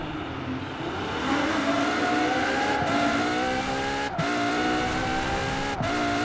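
A Ferrari V12 engine car in Forza Horizon 4 revs steadily, its tone rising and falling through a few short dips and gear changes, loud and close with no talk over it.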